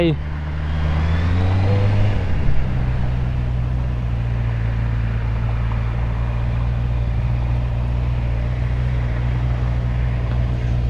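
A Honda CBR650R motorcycle with a modified split exhaust idles and pulls away in traffic, its engine note rising briefly, then settling into a steady, loud, low drone close by.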